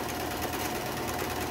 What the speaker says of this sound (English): So as I stitch up here,